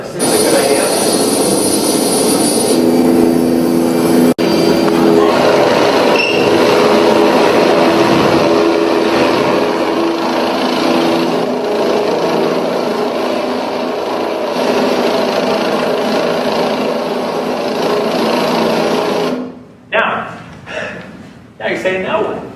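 A rented helicopter's engine and rotor drone loudly and steadily for about twenty seconds, with talk running over it, before the noise cuts away near the end.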